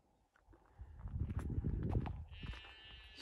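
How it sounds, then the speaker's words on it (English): Shuffling hooves and soft bleating from a small flock of sheep moving nearby on Derbyshire Peak District farmland, with a faint higher whine near the end. "Got sheep over here."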